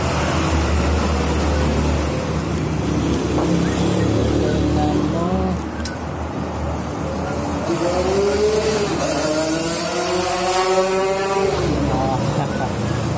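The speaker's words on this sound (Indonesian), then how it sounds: "Motor bunyi motor" A motorcycle speeding along a roadside, its engine rising and revving loudly as it passes close by, over a steady traffic rumble with talk in the background.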